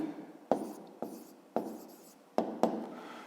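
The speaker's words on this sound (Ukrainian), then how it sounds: "Пишемо тоді відповідь." Pen strokes as a math answer is written on paper: five or six short, distinct scratchy marks with pauses between them, close and quiet, with no talking.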